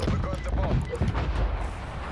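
Artillery fire in a first-person shooter video game lands as a dense string of loud, booming bursts that crowd together over a couple of seconds.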